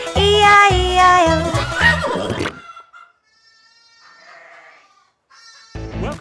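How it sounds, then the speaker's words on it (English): Cartoon sheep bleat in a children's nursery rhyme about a farm, playing after a sung, music-backed passage. A few scattered bleats follow, then the music returns. "And on that farm he had some sheep, E-I-E-I-O. With a baa baa here and a baa baa there"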